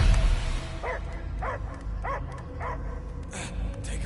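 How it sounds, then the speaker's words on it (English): A dog barks in short, evenly spaced bursts, about six barks a second or so apart, fairly close and clear over a low background hum. "I hear only barking."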